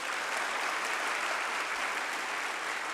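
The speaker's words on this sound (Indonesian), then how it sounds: "Kalau setuju coba tepuk tangannya lebih keras" A seminar audience at a business dialogue event applauds loudly and steadily, dense clapping sustained evenly throughout without any talk.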